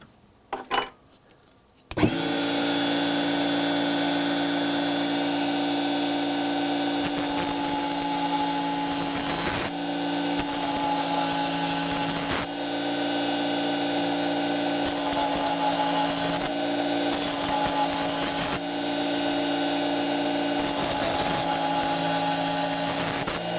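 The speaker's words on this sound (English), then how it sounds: "Now we're going to grind these teeth off and make new ones and try and match this." A Tigers Teeth sharpener grinds new teeth into a multi-tool blade, a loud, steady, whining grind that runs continuously after a brief start, dipping and resuming in short breaks between passes.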